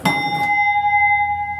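A single bright, ringing gong strike from a 1977 Gottlieb Golden Arrow pinball machine, struck once and left to sustain with a clear metallic tone.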